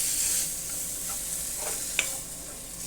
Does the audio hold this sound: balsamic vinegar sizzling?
yes